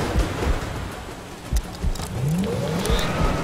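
Car driving at night in the video game Far Cry 2, with a steady engine rumble and road noise, occasional thumps and squeals over a broad hiss throughout.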